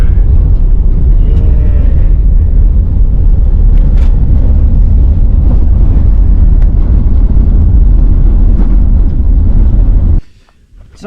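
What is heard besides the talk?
4WD driving on a red dusty corrugated dirt road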